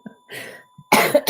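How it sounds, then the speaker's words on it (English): Several short, harsh coughs in quick succession, loud and close, with brief pauses between bursts. "Sorry for the coughing, guys."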